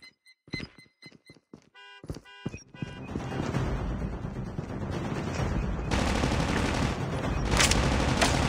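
Gunfire from the Call of Duty Mobile video game opens with a few sharp, separate shots. It then swells into a dense, continuous roar of firing and explosions that grows louder toward the end.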